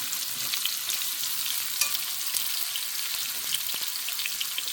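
Vegetables, including shiitake mushrooms and white radish, sizzle steadily in a hot pan while being stir-fried with tofu. The frying hiss is close and continuous, with occasional clinks and stirring taps and no talking.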